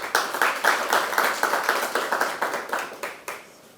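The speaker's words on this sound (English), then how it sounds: "Please join me in giving a round of applause for Dr. Wenderson Tamarat" An audience at an academic seminar applauds steadily, many hands clapping close by in a brisk, even patter that fades slightly toward the end.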